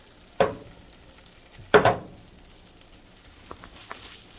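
Edamame soybeans being stirred with butter in a pan for a spicy edamame dish, two short scraping bursts of stirring a second apart, then a couple of faint clinks, with quiet sizzle in between.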